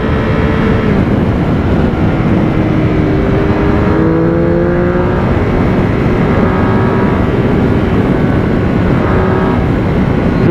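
A 2016 Triumph Speed Triple 1050R motorcycle accelerating on a road ride, its engine a loud, sustained roar with rising and falling pitch as it pulls through the gears, mixed with strong wind rush.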